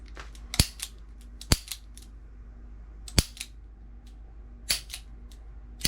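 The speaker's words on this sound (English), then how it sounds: "now I'm going to rotate one of these rounds to the next chamber" Metallic clicks from the cylinder of a Taurus 856 revolver being rotated by hand, several sharp ratcheting snaps spaced irregularly over a quiet background.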